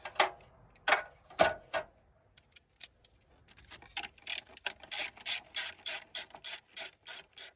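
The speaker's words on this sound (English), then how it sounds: "Now we're going to go ahead and disconnect our 8 millimeters real fast." A ratchet loosening 8 mm bolts on a Honda Civic during an engine swap, with a few separate ratcheting bursts followed by a quick, even series of close clicking strokes.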